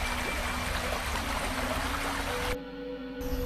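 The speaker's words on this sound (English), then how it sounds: "The river is in flood after all the snow we've had." A river in flood, swollen with snowmelt running off surrounding fields, rushes steadily and loudly close by, a dense continuous roar of churning water with no pause.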